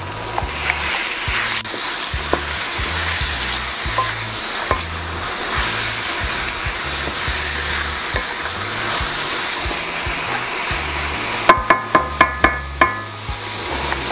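Chicken sautéing with onion in a pan, a steady close sizzle running throughout, then a quick run of sharp metallic taps from a utensil against the pan near the end, with no talk.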